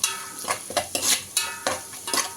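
Food fries in a pan for a biryani and is stirred briskly, with a low sizzle under rhythmic scraping and clinking of a utensil against the metal, loud and close, with no speech.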